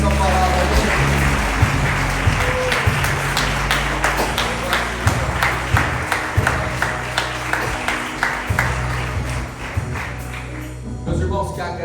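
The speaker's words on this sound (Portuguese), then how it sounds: "Vamos aplaudir a Deus pela Sua palavra." A church congregation claps together after a sermon, a sustained wave of rhythmic, close applause lasting many seconds, with music and voices running underneath before it fades at the end.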